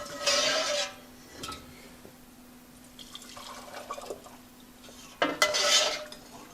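Glass jars knocking against the inside of a new pressure canner pot in water: two bursts of clattering, sloshing clanks near the start and end, with quieter scraping and handling sounds between them.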